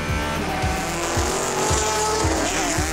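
Onboard a 1992 Porsche GT race car at Le Mans, the engine drones loud and steady at high revs, with rhythmic low pulses and a constant roar filling the cabin.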